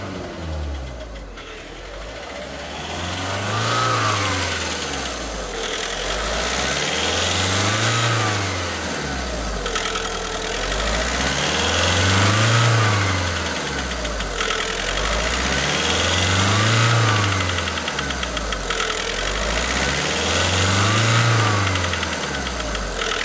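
A VW CAYE engine runs an injector compensation adaption routine, revving up and dropping back in five evenly spaced rising-and-falling cycles over a steady idle, heard up close with no talking.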